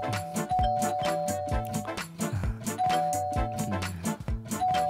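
A doorbell rings repeatedly, its chiming tones repeating rhythmically and loudly over and over without pause.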